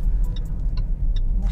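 A Range Rover Velar engine hums low and steady at close range. Faint, regular ticking sounds run over it.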